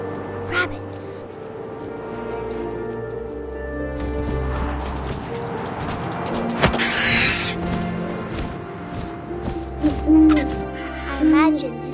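An owl hooting in the video game What Remains of Edith Finch, a few soft hoots carried over a wind-blown night ambience with game music and sound effects underneath.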